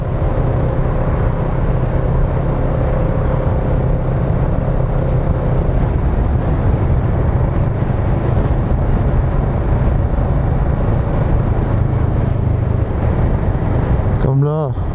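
Kawasaki Z650RS motorcycle being ridden, a steady engine drone with wind rush throughout, loud and constant, with a short mechanical clatter at the very end.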